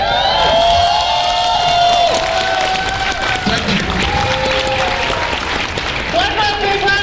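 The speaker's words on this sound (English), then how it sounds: "One more big round of applause for these and all our other amazing VIPs this weekend." A crowd at a convention weekend applauds, sustained clapping and cheering filling the space, with a voice talking over it throughout and some tonal sound running beneath.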